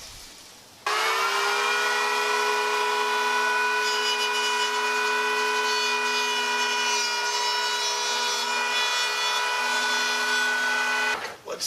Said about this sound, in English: now I remembered I have this planer, so this should make quicker work of it